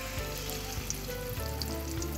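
Thick bora batter shallow-fries in a little mustard oil in a kadai over low flame, giving a continuous close sizzle and crackle with small pops and no voices.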